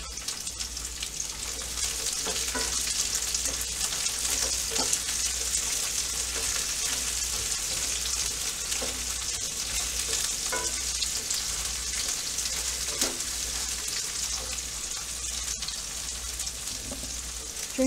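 Celery and garlic stir-frying in a cast iron pan, a steady loud sizzle with scattered clicks and stirring scrapes running continuously throughout.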